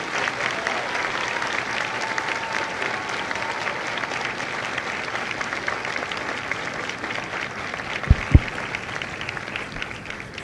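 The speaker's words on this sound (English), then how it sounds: "Ladies and gentlemen, a round of applause for their dedicated service to Corps and country." A crowd applauds recruits at a Marine Corps graduation ceremony at MCRD San Diego, dense sustained clapping filling the whole stretch, with a couple of sharp louder knocks near the end.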